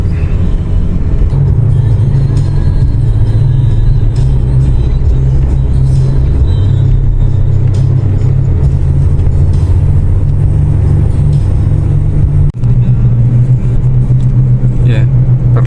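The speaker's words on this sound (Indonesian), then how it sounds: "perlahan-lahan kendaraan kita terus dipacu di kegelapan malam di daerah Miau Baru" A car travels a dark forest road at night near Miau Baru in Berau, Kalimantan, with a steady, close, low engine rumble throughout. Someone talks over the driving noise.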